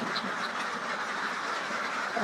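Ducks on a Bangladeshi duck farm quack faintly and continuously against a steady broadband hiss, with no voices over them.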